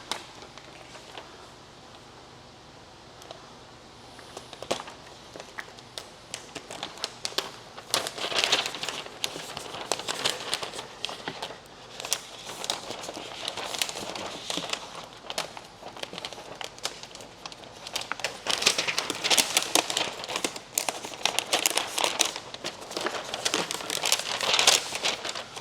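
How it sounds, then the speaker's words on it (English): Paint protection film being peeled from its liner for a Tesla Cybertruck door, a long, close crackling and crinkling rustle that grows busier and louder toward the end. "Now we're going to peel our paint protection film away from the liner."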